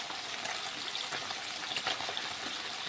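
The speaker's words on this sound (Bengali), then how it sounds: "বন্ধুরা দেখো পাবদা মাছ ভাজা চলছে" Pabda fish fries in a pan, giving a soft, steady sizzle dotted with light crackles and pops, fairly faint and uninterrupted, with no one speaking.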